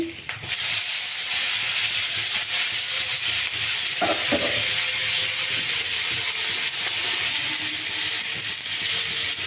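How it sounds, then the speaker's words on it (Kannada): Mint leaves frying in a pan with green chilies and garlic give off a steady, close broadband sizzle, with a couple of brief clinks near the middle. "ಈಗ ಪುದೀನ ಹಾಕ್ಕೊಳ್ತಾ ಇದ್ದೀನಿ"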